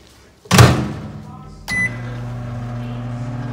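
A door thumps shut, a beep sounds, and then a microwave oven warming a bottle of cocoa butter starts running with a steady low electrical hum that continues evenly.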